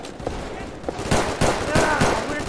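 Gunfire bursts in the video game Unit: Classified, a string of sharp reports and volleys spread across the moment, mid-loud, with voices talking underneath.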